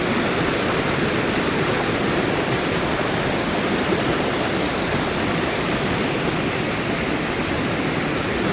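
Small waterfall beside a river, a steady broadband rushing roar of falling water, constant and fairly close, with no voices.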